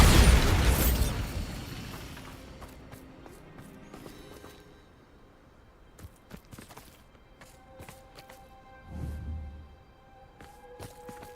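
A Bombarda spell blast in Hogwarts Legacy bursts loudly at the start with a broad booming rush, then fades into scattered clicks, steps and a second low rumble later on.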